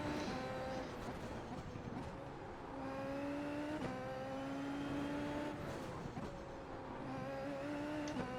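A Super Formula race car engine in iRacing on the Nordschleife drones and revs, its pitch climbing through gears with brief drops at shifts, steady and fairly close throughout.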